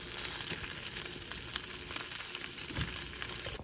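Sausages frying in a pan give a steady, soft sizzle and crackle with occasional small pops, heard up close and alone, with no talking.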